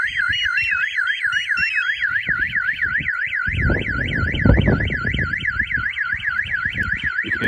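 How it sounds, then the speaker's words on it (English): A Pandora Light Pro car alarm fitted to a Vauxhall Astra van wails loudly and continuously with a fast warbling tone, while rumbling knocks and handling noise sound underneath midway through. "The alarm going off in the van and the paging device going off as well."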